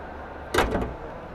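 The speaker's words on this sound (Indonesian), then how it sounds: "Oke, kita tutup bagian mesinnya" A GWM Tank 500 engine hood swings shut with a single solid thud and a brief rattling settle, close by and alone against quiet background.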